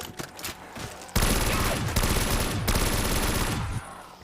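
Sustained rapid automatic gunfire from a weapon in a Call of Duty zombies custom map, a loud continuous stream of shots lasting several seconds after a brief quieter lead-in.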